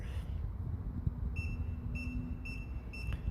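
An electronic keyless deadbolt keypad beeps as a code is entered, four short, high, fairly faint tones spaced about half a second apart over a low background rumble.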